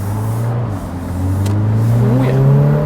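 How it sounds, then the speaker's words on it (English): 2025 Mini Cooper S Convertible with its 2-liter turbocharged engine revving, heard from the back with the roof down: a steady, loud engine drone that rises gradually in pitch, with no talk. "you can actually hear the engine with the roof down from the back"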